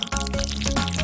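Water pours briefly into a small squishy toy fish aquarium, a short close gurgling splash.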